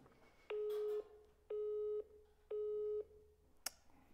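Three evenly spaced busy-signal beeps on a phone line during a callback, each lasting about half a second with equal gaps between them, followed by a brief click at the end.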